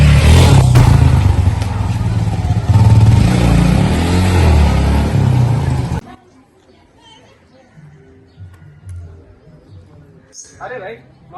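A motorcycle rides past on a road, its engine loud and close for about six seconds with people chattering over it, then cutting off abruptly to near quiet with faint voices.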